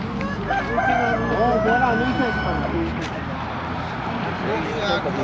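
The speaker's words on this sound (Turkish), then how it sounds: "Tavukları çok büyük ya. Tavukları yani kocaman." A rooster crows amid clucking chickens at an animal market in Armenia, a busy, noisy setting with traffic and people talking in the background.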